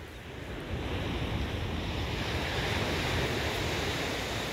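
Surf breaking and washing over a pebble beach on a quiet morning, a steady broadband roar with wind buffeting the microphone throughout, close and continuous with no voices.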